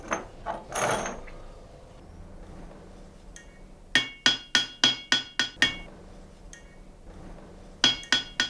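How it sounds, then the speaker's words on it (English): Hammer striking warped steel scissor blades on an anvil: after a few softer knocks, a rapid run of sharp, ringing metallic blows comes in quick succession, then pauses and resumes with a couple more close, loud strikes. "A hammer and anvil bring them back, not by force, by understanding how steel wants to move."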